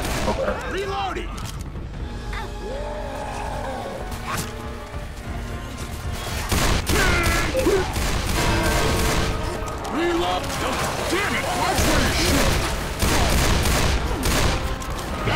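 Left 4 Dead 2 firefight with teammates shooting, including friendly fire, a dense run of close gunshots and smashing hits that grows louder midway, with players talking over the shooting.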